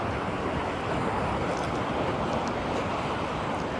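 Niagara Falls pouring down, a dense, constant low roar of falling water with some wind rumble, steady and fairly distant-sounding throughout, without talk.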